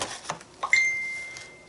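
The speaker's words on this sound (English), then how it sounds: "Sorry about my phone, guys. It's just pinging like crazy." A phone notification pings softly: a couple of short bright chimes followed by a single sustained high tone that fades out, with no talking.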